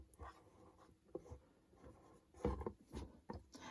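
A fraction being written during a math lesson, soft close scratching strokes of a pen or pencil in short bursts, faint and without talking.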